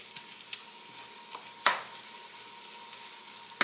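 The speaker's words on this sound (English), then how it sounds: "My beef is almost finished cooking" Ground beef frying in a pan, a quiet continuous sizzle with a few sharp clicks and scrapes from stirring scattered through it.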